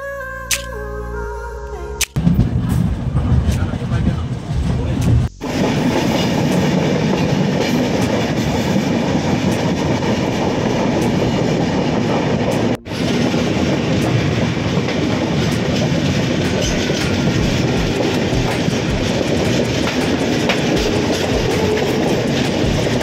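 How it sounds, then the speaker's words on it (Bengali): The Howrah–Mumbai CSMT Duronto Express (12262) rolls steadily along the tracks, with continuous rumbling and rhythmic clickety-clack, heard from inside the carriage for a long stretch. "আমাদের ট্রেনটা ফাইনালি ছাড়লো"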